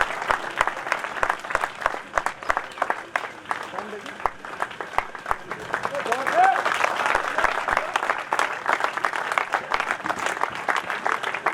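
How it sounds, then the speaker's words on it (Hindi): Sustained applause from a large crowd at a Delhi Police driver selection gathering, dense clapping running steadily throughout and swelling louder in the second half, with voices mixed in. "तालियां बजाओ, तालियां नहीं रुकनी।"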